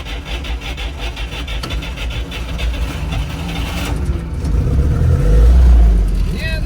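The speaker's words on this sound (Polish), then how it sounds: "Pali ze strzała." A Russian-made car engine, freshly repaired in a workshop, runs close by, holding a rough idle before revving up louder toward the end while people talk nearby.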